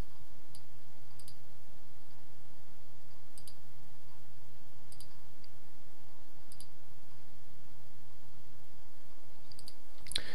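Mouse clicks sound in the Nautilus file manager on a Linux computer, coming as soft double clicks spaced a second or two apart over a faint steady hum, with no talking.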